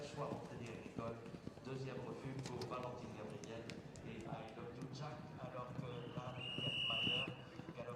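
Horses galloping in a cross-country eventing championship for six-year-olds over rain-softened, cutting-up ground, hoofbeats drumming under steady commentary.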